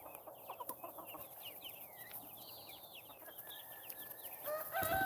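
Chickens cluck close by in a steady, chattering stream of calls over a soft background hum, with a louder burst near the end. No one talks.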